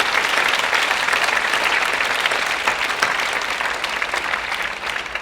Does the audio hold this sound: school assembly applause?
yes